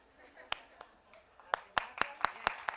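A handful of separate claps from a classroom audience during an award announcement, sharp and spaced out, about seven of them, some louder than others, over quiet background noise.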